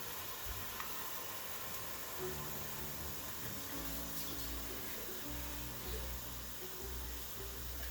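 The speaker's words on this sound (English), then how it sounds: "I want to be careful not to add too much water." Water pours steadily into a pot of goat meat being cooked for isi ewu, a continuous soft splashing and gurgling that runs for several seconds at moderate, even volume with no talking.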